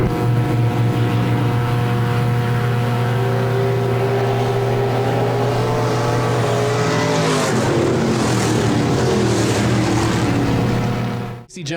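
Stock cars circle the dirt oval at Park Jefferson Speedway under caution, a steady, close droning rumble of several engines that holds throughout and cuts off abruptly at the end.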